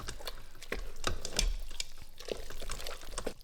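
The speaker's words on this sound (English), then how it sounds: "Now we're supposed to stir and have this saute for 2 minutes." Sauce sautéing in an Instant Pot while a spoon stirs it, producing soft sizzling and wet scraping with a few clinks of the utensil against the pot, fairly quiet and steady.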